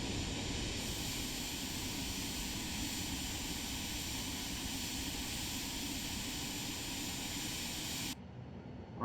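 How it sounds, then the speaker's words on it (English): A Cirrus Vision Jet engine in the FlightFX flight simulator gives a steady, broad whooshing roar that holds level for several seconds, then drops off abruptly near the end as it throttles down. "Engine throttling down."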